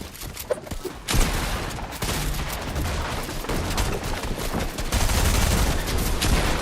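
Automatic weapon fire sprays in rapid, dense bursts in a Fortnite match, a loud, continuous clatter of shots that swells louder toward the end.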